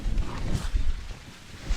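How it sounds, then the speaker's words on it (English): Wind buffets the microphone out in a farm field near center-pivot irrigation towers, a steady low rumbling gust with no voices. "It's a little windy today."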